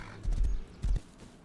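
A horse in the video game Rust gallops in two heavy, close bursts of thudding hoofbeats, loud and low, with no speech over them.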